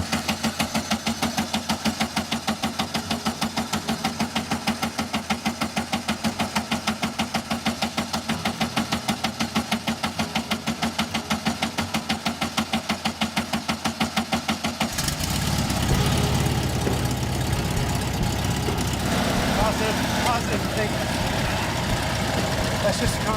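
Volkswagen Beetle engine running for the first time in 23 years: a steady, rhythmic idle with knocking pulses, then a louder, rougher roar partway through as it revs.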